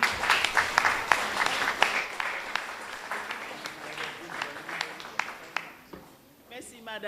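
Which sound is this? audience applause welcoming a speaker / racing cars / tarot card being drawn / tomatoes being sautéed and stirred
audience applause welcoming a speaker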